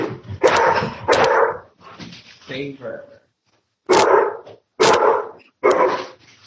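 A big dog barks in several loud, close bursts in a rough rhythm during a group video call, with a brief pause in the middle, and a person speaks once.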